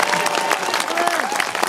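Comic Con audience in Belfast applauding and cheering for Paul McGann, a loud, sustained spread of clapping with voices and whoops mixed in across the whole stretch.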